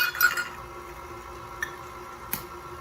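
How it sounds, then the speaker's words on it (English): Eggs are cracked one by one into a measuring cup, giving a couple of quiet clinks and a soft wet squish. Faint taps follow in a hushed kitchen. "I'm gonna crack them into a measuring cup separately"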